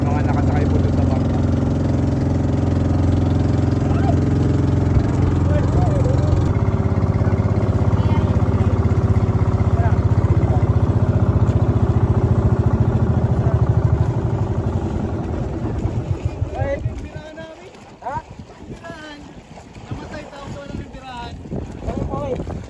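A boat engine drones steadily on open water alongside a small boat calling for help, with wind buffeting throughout; after about fifteen seconds the hum drops away and voices and choppier noise take over.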